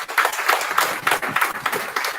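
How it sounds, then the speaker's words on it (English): Graduation audience at a primary school ceremony applauding the janitorial staff: a dense, steady wash of many hands clapping, fairly close and continuous throughout with no speech over it. "Give them a round of applause in the place"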